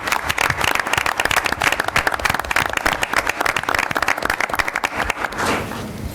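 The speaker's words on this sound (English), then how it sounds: "It deserves a round of applause for the high school and the entire community." A meeting audience at a school board session claps in sustained applause, dense and steady for about five seconds before tapering off.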